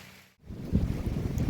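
Wind gusts by a lake at the fishing area of Gaston Dam on a blustery day, a brief dropout followed by loud, rumbling buffeting against the microphone.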